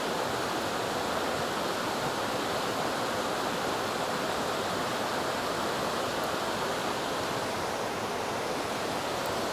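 Steady, dense rushing of a river flowing, constant and fairly loud throughout with no pauses or voices.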